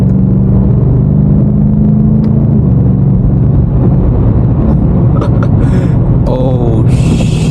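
A BMW F90 M5 Competition pushes through New York City traffic with a loud, close engine rumble and steady road roar. A rising tone near the end suggests acceleration, with brief higher clatter over the top.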